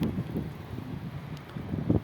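Gusty wind buffets the microphone in low rumbling bursts, loud and continuous, with no voices, on a pigeon rooftop.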